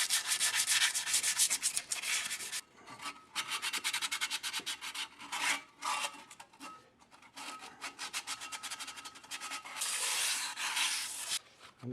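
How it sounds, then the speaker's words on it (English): An old brake rotor from a 1996 Toyota Corolla is rubbed with 220-grit sandpaper to deglaze it, giving close, loud rhythmic scraping strokes in bursts with brief pauses between them. "if you got some sandpaper laying around, you kind of want to like deglaze the rotor if you're using old rotors"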